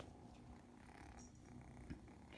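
A foster kitten purrs close up in a steady, soft, rhythmic rumble that continues alone throughout, fairly quiet.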